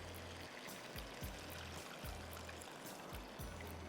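Water poured into a cooking pan while making a chicken and pasta dish: a faint, steady splashing trickle broken by soft, regularly spaced low thumps.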